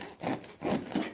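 Attic insulation roll being cut, with three rough, rubbing sawing strokes at close range, each a short fibrous rasp separated by brief pauses.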